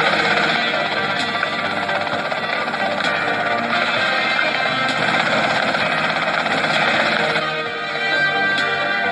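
Helicopter in the Grand Theft Auto Vice City video game: a steady, loud rotor and engine drone that runs throughout without letting up, a little quieter briefly near the end, with no speech over it.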